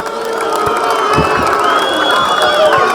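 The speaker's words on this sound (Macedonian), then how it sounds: "Еден аплауз за екипата на Букс Мебел." Loud crowd cheering and whooping with clapping for Bucks Mebel at the final of a small-pitch football tournament, a dense, sustained roar close by throughout.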